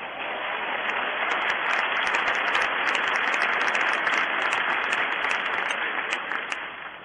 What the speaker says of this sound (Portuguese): Um aplauso a Deus pela vida dele.